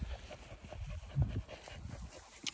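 Cane Corso dogs pant softly and sniff on an evening walk, with quiet irregular breaths and a faint whimper, close but low in level.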